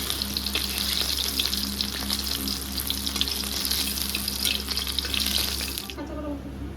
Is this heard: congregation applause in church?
no